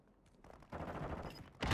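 Gunfire in the video game Warzone 2: a brief faint shot early, then a sustained loud burst of rapid automatic fire from about 0.7 seconds, pausing briefly before another sharp report at the end.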